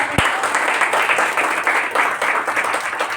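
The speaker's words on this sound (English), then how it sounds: "Clap once again." Steady applause fills the room after a talk on bridging technical and non-technical teams, a dense wash of many hands clapping at even loudness from start to finish.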